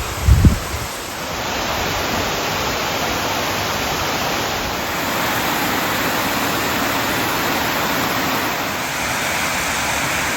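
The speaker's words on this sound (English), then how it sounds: "we've got this little side waterfall that formed, goes right across the path" Small waterfall formed after heavy rain, spilling across a walking path: a steady, broadband rush of falling water, close and continuous throughout, with a brief bump or handling noise at the start and no talking.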